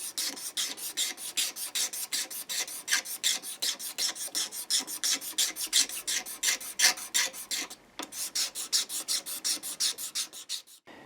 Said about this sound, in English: we're going to scrape all this gunge and gunk off the fingerboard